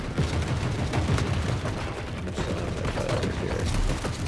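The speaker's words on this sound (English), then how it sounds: "Bullets going through the wall." Gunfire in the video game The Forever Winter, dense overlapping automatic bursts and heavy thumps rattling continuously at a loud level, with bullets tearing through walls.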